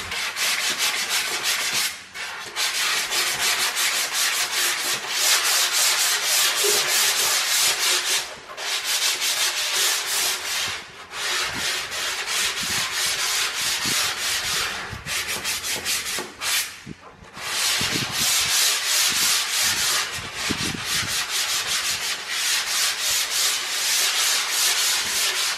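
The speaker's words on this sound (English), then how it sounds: "And then you want to just sand the edges." Drywall control joint edges being sanded by hand, a steady close scratchy rubbing that runs almost continuously for the whole stretch, broken only by a few brief pauses.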